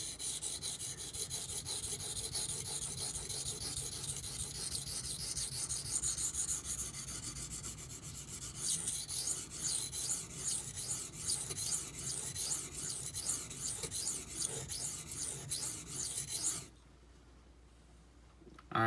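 A kitchen knife is pushed back and forth on an Imanishi Latte 400 grit whetstone under firm pressure, giving a close, rhythmic gritty rasping of rapid strokes for about sixteen seconds before it stops abruptly.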